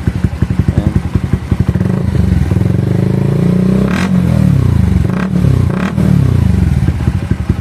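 A Bajaj Rouser NS125 motorcycle fitted with an Akrapovic exhaust idles with a rapid, loud putter up close, then is revved in several sharp bursts that rise and fall.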